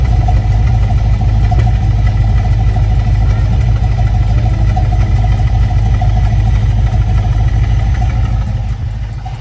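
Idling 5.3 LS swap V8 car engine with a loud popping noise from the exhaust underneath, a steady close low rumble running throughout with faint irregular pops, no talk.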